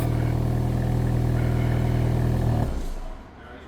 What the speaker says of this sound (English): there's the cold start sound